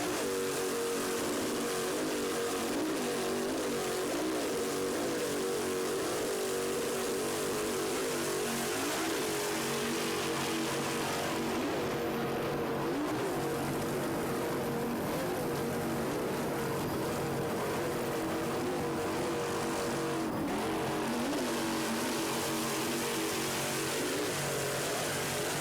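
A 32-foot Tempest racing powerboat with a three-person crew runs steadily at speed in an offshore race, its loud, continuous engine roar mixed with wind and water rush throughout.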